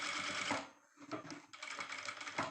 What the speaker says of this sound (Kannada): ಲೆವೆಲ್ ನೋಡಿಕೊಂಡು ನಿಧಾನಕ್ಕೆ ಮೇಲ್ಗಡೆ ಸ್ಟಿಚ್ ಹಾಕೋಬೇಕು